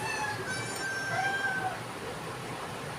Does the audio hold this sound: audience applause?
no